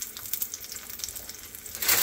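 Green onion and shallots sizzle in hot oil for a tempering, a steady close crackling and frying hiss that swells louder at the end.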